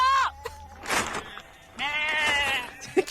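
Sheep bleat loudly in a few separate calls near a forest road, with gaps of quieter sound between them.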